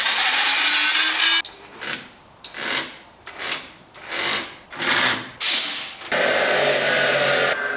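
A power drill whines in several short bursts while drilling through a BMW M52/M54 oil pump lock nut, each spinning up and winding down, between stretches of steady mechanical noise.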